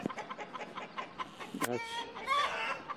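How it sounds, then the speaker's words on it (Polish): A rooster and hens cluck and squawk in alarm at a stork perched on a roadside pole in a Polish village, a string of sharp, agitated calls close by, with a brief spoken word at the start. "Kogut jak zaniepokojony, z kurami krzyczą, bo zobaczyły bociana"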